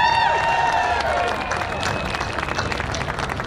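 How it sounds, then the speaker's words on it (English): An audience gives a round of applause with a few cheers at a family and friends presentation, a loud, dense wash of clapping that is steady throughout. "I think there's a big round of applause that goes out to Dave and Shelley Collins."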